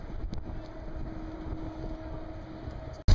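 Steady low engine rumble and water wash inside a moving ferry in New York, with wind noise throughout and a sudden loud bump right at the end.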